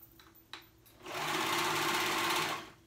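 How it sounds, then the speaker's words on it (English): A serger sewing machine stitches lace fabric, with a few soft clicks before a steady, fast mechanical whir starts and runs for about a second and a half, then stops; close and quiet. "And I am doing my serger."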